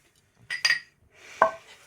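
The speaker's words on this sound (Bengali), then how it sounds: "লুচির থালাটা সরিয়ে দাও" A metal plate of luchi slid aside at a birthday meal, giving a couple of close, quick clinks and scrapes of tableware with a short pause before a final louder clink.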